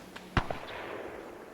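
Grenade explosion in Arma 3, a single sharp blast followed by a soft rumbling decay, moderately distant and fairly faint against background ambience.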